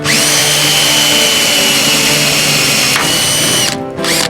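A power drill grinds loudly and steadily into hard metal on old 1948 Ford parts at a junkyard, with a high whine, pausing briefly near the end before biting in again.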